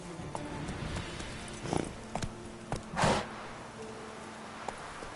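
In The Witcher 3, the horse Roach walks with a few clip-clopping hooves, close and fairly loud, including a couple of heavier thuds.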